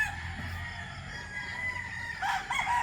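A Boston Black stag rooster crows close by, one drawn-out call rising near the end over a low background hum, no speech.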